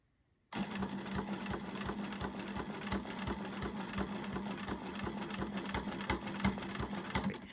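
A sewing machine quilting a practice piece starts up after a brief silence and runs steadily, a close, even rapid needle rhythm with a constant motor hum to the end.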